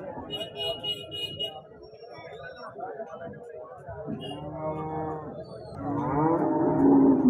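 Several cows moo loudly in drawn-out calls, close by, while someone talks over them amid a busy outdoor crowd at a weekly cattle market in Husnabad, Siddipet.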